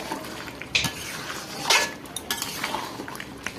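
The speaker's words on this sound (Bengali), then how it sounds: "দেখো মাংসতে মশলা দিয়ে ভালোভাবে কষাবো" Chicken frying with spices in a pan under a low, continuous sizzle, as a metal utensil stirs and knocks against the pan with a few bright clinks and scrapes; close by, no voices.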